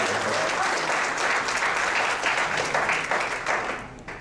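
Applause for volunteers at a chamber of commerce breakfast meeting, a dense, even roar of many hands clapping that holds steady before fading out at the end, with some voices mixed in.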